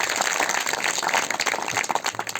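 A church congregation claps together in a brief, dense burst of applause, loud and close, fading slightly toward the end.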